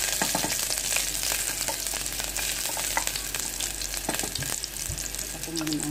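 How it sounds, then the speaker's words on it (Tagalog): Onion sautéing in hot oil for a salmon-head sinigang with malunggay, giving a steady dense frying sizzle with scattered crackles and pops throughout, close and moderately loud, with no talking. "nagpainit na ako ng mantika kasi igigisa ko muna yung sibuyas"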